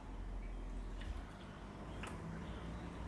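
Hot milk pours softly into a cup for dalgona coffee, a faint, close trickle and splash with small drips, continuing steadily for a few seconds.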